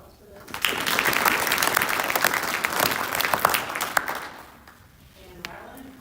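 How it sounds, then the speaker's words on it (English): Audience at a school academic night and spring concert applauding students, clapping that swells quickly, holds strong for several seconds, then fades out with a few last claps. "So round of applause for them."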